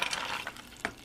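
Nuts sautéing in a frying pan as filling for stuffed peppers: a steady close sizzle broken by a few short scraping stirs near the end, with no talking.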